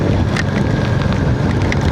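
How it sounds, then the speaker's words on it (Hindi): Heavy rain falls in the Himalayan mountains during a motorcycle ride, a dense, loud, constant hiss mixed with wind buffeting the microphone and scattered sharper drop hits. "बहुत ही तेज़ जो है बारिश आ रही है, हमें रुकना होगा, बारिश बहुत तेज़ हो गई है।"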